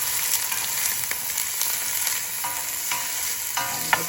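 Ingredients for Manchow soup sauteing in a hot pan, with a dense continuous sizzle and occasional spoon scrapes and small clinks, close and fairly loud, no talking.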